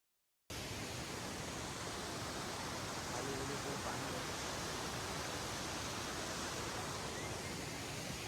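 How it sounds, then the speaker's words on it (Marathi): A waterfall roars as a steady, dense rush of water that fills the whole clip after a brief silent start, with a faint voice barely audible beneath it. "आपण धबधब्यावर पोहोचलेलो आहे"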